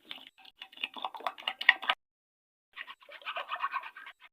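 Eggs with salt, ground black pepper and cumin are whisked in a bowl with quick, rapid scraping strokes in two bursts separated by a short pause. The strokes are close and crisp, and nobody speaks.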